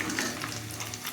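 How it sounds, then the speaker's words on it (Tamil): Fenugreek seeds frying in dark homemade hair oil on the stove, a close, continuous crackling sizzle with fine popping throughout a short stretch. "வெந்தயம் பார்த்தீங்களா பொரிஞ்சிருச்சு"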